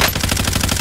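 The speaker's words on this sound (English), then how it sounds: "I shot him with the bison." Bizon submachine gun in the shooter game Apex Legends firing a rapid automatic burst, a steady stream of evenly spaced shots about ten per second, loud and close, with no talk.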